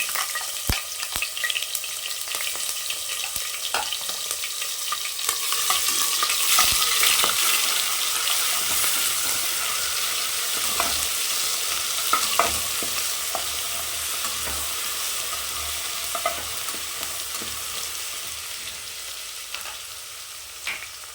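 Curry leaves and crushed green chillies fry in hot oil for a mutton fry, making a loud continuous sizzle with scraping stirring strokes and spattering crackles, with no voices.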